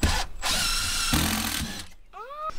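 A power drill drives a screw into a composite deck board, the motor whining loud and steady before stopping, with a short high rising whine after a brief pause.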